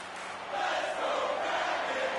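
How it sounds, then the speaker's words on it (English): Crowd noise fills an ice hockey arena during a tie game, a broad, sustained roar that swells after a half second and holds steady at a loud level. "You can feel the energy in this crowd."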